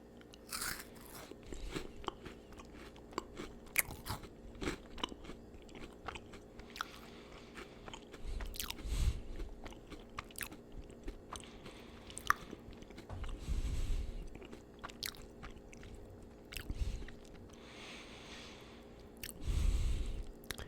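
Japanese KitKat chocolate bars bitten and crunched up close, several sharp crisp bites spread out with quieter chewing in between, no talking.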